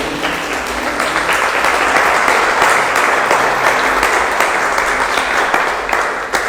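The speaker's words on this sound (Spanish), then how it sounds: "Denle una ofrenda de palmas a Dios." A church congregation applauds as an offering of praise to God, sustained dense clapping from many hands at a steady, fairly loud level, filling the space with little talk over it.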